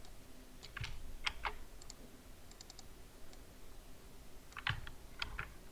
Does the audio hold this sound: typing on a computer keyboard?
yes